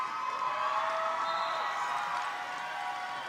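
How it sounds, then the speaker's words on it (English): Angel City fans at a junior roller derby bout, The Big O 2016, cheer and shout as a sustained crowd roar that fills the arena, without a clear voice rising above it. "I want to hear some noise from our Angel City fans in the house"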